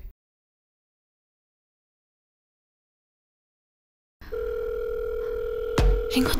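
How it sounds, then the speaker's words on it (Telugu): After a long silence, a steady electronic ringback tone starts and holds, with a brief click or rustle near the end. "రింగ్ అవుతుంది."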